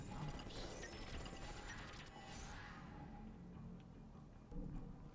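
Lock picking in Call of Duty: Black Ops Cold War rattles as close mechanical clicks and ratcheting scrapes, busy at first and then thinning into quieter ticks, with a small clunk near the end.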